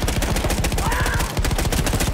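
Loud, rapid rattling fire from guns in Battlefield 1 rings out, close and continuous, with overlapping bursts filling the battlefield.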